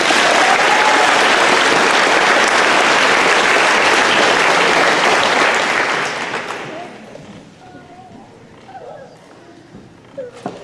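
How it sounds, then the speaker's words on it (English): A crowd at a high school awards ceremony applauds graduating student Justin with loud, full clapping for about six seconds. It then thins out into scattered claps and quiet room murmur. "Please give Justin a well-deserved round of applause."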